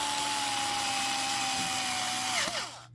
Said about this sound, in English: the longest screw goes in the nose, the back of the head. So drill in the back of Mario's head.